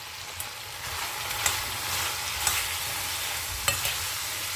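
Spice powders are stirred into a frying mango mixture, giving a soft continuous sizzle with a few light scraping clicks of a spoon against the pan, close and quiet with no talking.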